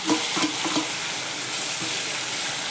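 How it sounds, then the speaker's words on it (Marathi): Stuffed bitter gourd (karela) sautés in a pan over a low flame, giving a steady sizzle with a few quick spoon-stirring scrapes early on, alone and close. "बारीक गॅस करून चांगलं परतू द्यायचं हे कारलं"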